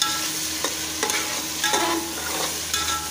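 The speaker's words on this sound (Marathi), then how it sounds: "टोमॅटो पण चांगला मॅश होईपर्यंत परतून घ्यायचा आहे." Green chillies and tomatoes being stirred and sautéed in a pan for pav bhaji, with a steady sizzle of frying and several distinct spoon scrapes and clacks against the pan, close up and with no talking.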